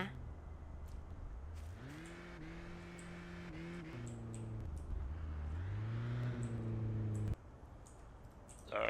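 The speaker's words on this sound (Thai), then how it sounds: "โอ้รถใครผ่านมา" A car passes by, its engine a droning tone that rises and shifts pitch for several seconds before cutting off abruptly, with speech heard alongside.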